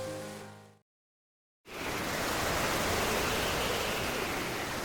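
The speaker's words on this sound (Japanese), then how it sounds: "波を越え荒れた海を進む小さな船の上" Rough open sea carrying a small boat, heard as a steady, loud wash of surging water and spray that fills the scene after a brief silence, with no voices.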